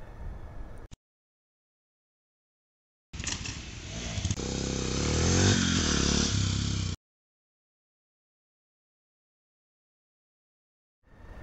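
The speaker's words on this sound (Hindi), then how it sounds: "मैंने स्टॉपी की प्रैक्टिस कर रहा हूँ" A 2010 BS3 Bajaj Pulsar 150 motorcycle during stoppie practice, heard as a loud, close engine roar and rev lasting a few seconds between stretches of silence, with a brief clatter near the start and end.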